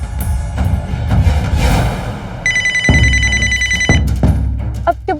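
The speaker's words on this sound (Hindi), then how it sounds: "मेरे बॉस का फोन आ रहा है बार बार" A phone ringtone starts partway through and rings loudly and steadily up close, over busy background noise and a few sharp thuds.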